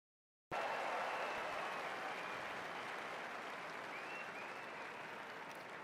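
An outdoor crowd at a presidential inauguration parade event bursts into sustained applause after a short silence, the clapping loud and dense at first and then easing slightly while it continues.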